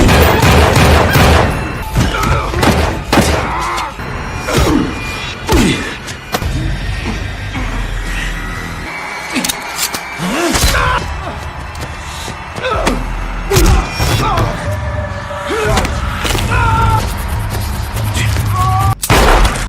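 Gunshots in a gangster movie scene, sharp loud bangs scattered irregularly among slams and thuds over a continuous dramatic soundtrack, with no one talking.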